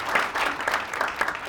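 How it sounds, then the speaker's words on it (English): Studio audience applause during a television talk show, a short burst of many hands clapping at moderate loudness with no speech over it. "Can we just give that a round of applause?"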